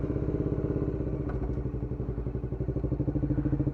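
A Bajaj Dominar 400 UG2 motorcycle at night, its engine thumping in a steady, fast rhythmic pulse, close and fairly quiet, with a few light clicks and clatter over the running engine.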